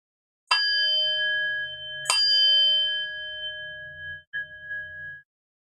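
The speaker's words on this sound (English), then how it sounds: "And then I'll ring the bell 3 times at the end." A meditation bell rings three times: two clear resonant strikes about a second and a half apart, each leaving a long sustained shimmering tone, then a softer third touch near the end before the ring fades out.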